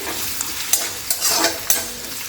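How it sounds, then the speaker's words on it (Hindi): Onions hitting hot oil in a kadhai, a loud bright sizzle with several sharp stirring scrapes in quick succession, close up and with no voices. "मेरी कढ़ाई में तेल गर्म है तो मैं इसमें अब डालूंगी प्याज।"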